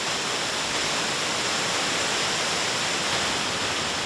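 Yinlian Zhuitan waterfall in Guizhou, China, where large and small streams split and merge down a rock face: a loud, close, unbroken roar of falling water with no voices.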